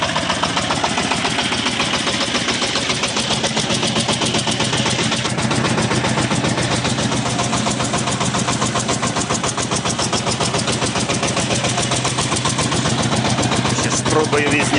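A small Chinese tractor engine chugs loudly and steadily throughout with a fast, rapid knocking rhythm, close by and unchanging for the whole stretch.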